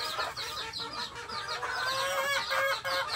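Five-month-old pumpkin, roundhead and kelso gamefowl chickens cluck and chatter close by, several birds calling over one another in busy, overlapping bursts.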